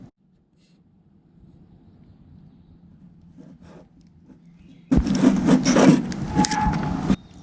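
A knife scores around the black outer casing of a broken plug's cable: faint, soft rubbing at first, then a loud, close, rasping scrape over the last couple of seconds.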